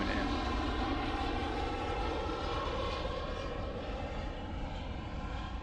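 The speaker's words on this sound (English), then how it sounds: "how loud these planes were coming in" Loud airplanes fly in overhead above a bay, a steady roaring engine drone that fills the whole stretch and eases slightly toward the end.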